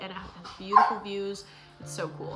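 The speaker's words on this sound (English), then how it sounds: "Sorry about the dogs." Dogs bark and yip close by beneath a person talking, with a louder bark in the middle and whimpering tones near the end.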